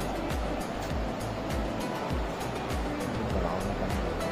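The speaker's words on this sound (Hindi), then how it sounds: "देखिए पानी बहुत हो गया" Swollen river water rushing in full flood beside the Girija Devi temple after a disaster, a loud, steady roar of churning water that runs without a break, with no clear voices over it.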